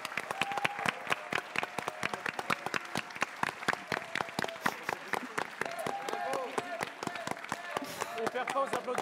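A live audience at the Stunfest 2022 gaming festival applauds steadily, a dense, sustained patter of many hands clapping with voices mixed in beneath.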